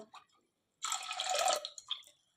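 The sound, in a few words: water being poured into a pressure cooker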